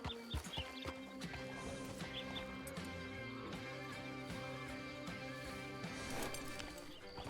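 Horse hooves clip-clopping in the Red Dead video game, a steady faint rhythm of hoofbeats under a continuous musical background.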